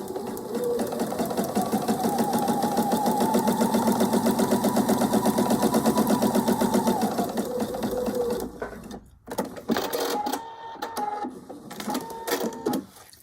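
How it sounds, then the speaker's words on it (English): A sewing machine stitches a seam in a fast, steady whirring rhythm for about eight seconds, then stops, followed by fabric handling and light clicks. "And I'm going to sew right on that line."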